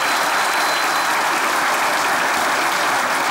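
A studio audience at a Turkish comedy sketch show breaks into loud, sustained applause for the performing dogs Loki and Laika, a dense, even wash of clapping with no talk.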